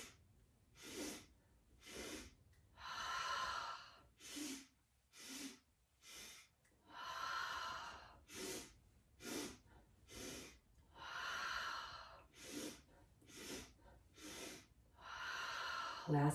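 Rapid, forceful breaths during an all-levels yoga breathing exercise, a quick train of loud nasal inhales and exhales in bursts, close and clear with short pauses between rounds.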